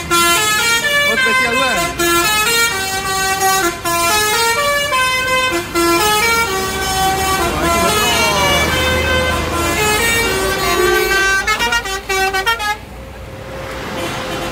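A PO Haryanto bus on the road blasts a loud, close multi-tone musical horn, playing a long run of melodic toots and chords that continues for about thirteen seconds before cutting off into quieter road noise.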